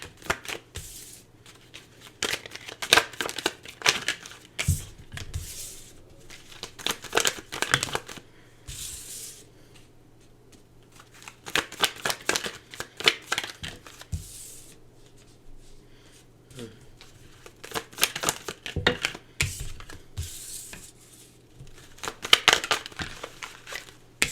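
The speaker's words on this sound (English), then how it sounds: "Just give me some time to pull some tarot cards here" Tarot cards being pulled and shuffled, with repeated bursts of riffling and sliding card sounds separated by quieter pauses, close to the microphone.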